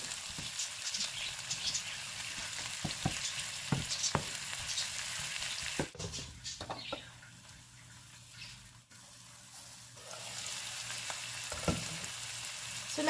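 Shrimp fry in butter in a pan, sizzling and spattering close up while being stirred, with a quieter pause midway before the crackle picks up again.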